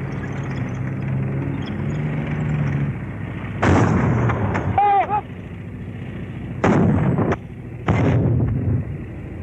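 A 37mm anti-tank gun fires at targets in WWII infantry training footage. Heavy, loud blasts stand out against a steady background rumble: one big report mid-clip, then two more sharp bursts near the end.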